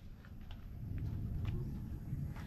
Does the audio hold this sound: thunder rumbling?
yes